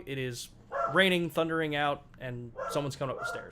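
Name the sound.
dog barking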